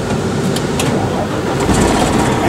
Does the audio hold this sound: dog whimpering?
no